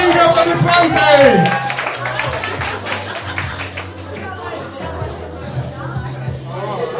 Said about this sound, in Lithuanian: Šaunuolis, audringi aplodismentai!